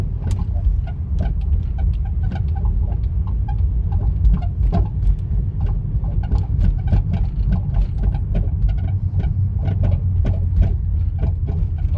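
A Kia Sorento with a front-end clunking noise while driving: a steady low road and engine rumble with repeated light knocks and ticks scattered throughout, heard continuously from inside the moving car with no talk.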